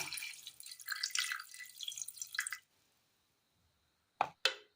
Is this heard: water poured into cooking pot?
yes